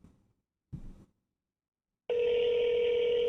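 A telephone call rings out unanswered, heard as a steady, loud electronic tone that starts abruptly after a few seconds of near silence broken by faint low thumps.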